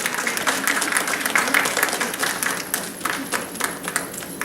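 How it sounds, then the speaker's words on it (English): Families, friends and classmates clap for LPN graduates at a 2014 graduation ceremony, a steady round of applause with scattered louder individual claps throughout. "give those people, your family, friends, and classmates, a great big round of applause"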